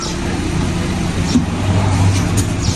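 A car manoeuvring in reverse into a garage, its engine running at a low steady idle, near and continuous without any revving.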